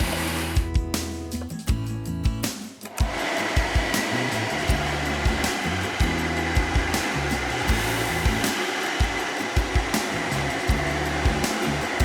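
Leaf blower clearing leaves out of a house gutter, a loud steady whooshing roar that starts after a few brief bursts and then runs continuously, close and without talk.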